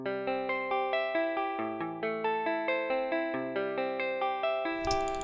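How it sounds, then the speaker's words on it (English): Arpeggiated notes from a sampled Jazzmaster guitar in Ableton Live repeat in a quick, even pattern of bright plucked tones over about five seconds, ending in a short burst of noise, with no talking. "But I can do these kinds of like cool arpeggiations like."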